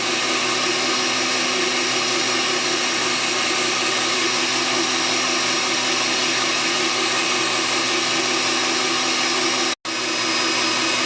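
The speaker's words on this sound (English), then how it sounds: "you don't really need to sit here and just watch the mixer turn" An electric mixer whips raw goat milk cream for butter with a constant, loud motor whine and steady churning, broken only by a single brief dropout near the end.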